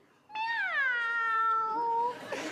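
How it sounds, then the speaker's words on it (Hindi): A single cat gives one clear, drawn-out meow lasting about two seconds, close and distinct against a quiet background. "ये बुलबुल बिल्ली।"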